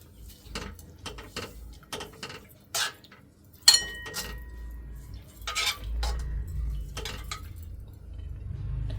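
Metal spoon clinking against a pot while sugar is added to roasting vermicelli in a home kitchen, several sharp separate taps and scrapes close by, with a low stove hum underneath and no talk.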